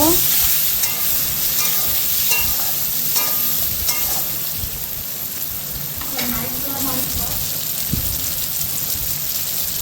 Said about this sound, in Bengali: তারপরে দিয়ে দিলাম টমেটো, দেওয়ার পরে একটু নেড়ে চেড়ে নেব।